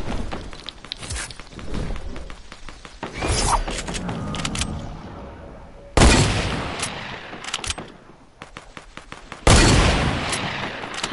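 Heavy shotgun blasts in a video game firefight, with sharp, loud booming shots at intervals amid clanking mechanical reloads and creaks.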